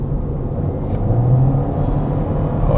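A Toyota Vios hybrid sedan accelerates hard on an old, worn road, its engine giving a steady low rumble and whir with road noise beneath, loud and continuous throughout.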